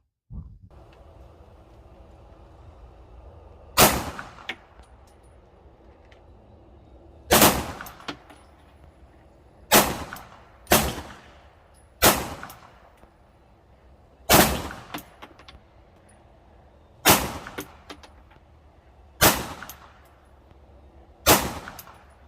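SIG P365 micro 9mm pistol fired at a target on a shooting range, about ten loud sharp single shots spaced a second or two apart, each with a short echoing decay.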